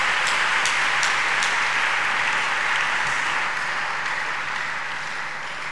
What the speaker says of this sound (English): I'd like us to clap unto God.